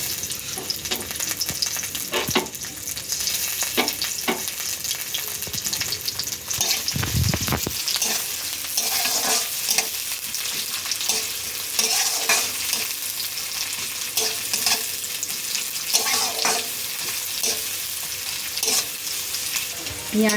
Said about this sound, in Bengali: তেলটা গরম হয়ে গেছে, দিয়ে দেবো পেঁয়াজ কুচি।